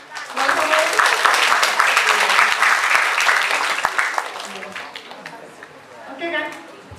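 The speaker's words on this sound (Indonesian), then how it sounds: "Tepuk tangan." A school orientation crowd at an Indonesian high school bursts into loud, dense applause lasting several seconds before fading, with chatter and a voice speaking near the end.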